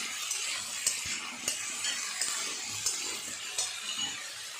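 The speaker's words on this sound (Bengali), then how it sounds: "আলুটা ভাজা হয়ে গেছে, দিয়ে দেবো টমেটো কুচি।" Chopped tomato hits potatoes frying in oil for Bengali aloo posto, a bright steady sizzle punctuated by regular spatula scrapes and taps against the pan, close and fairly loud.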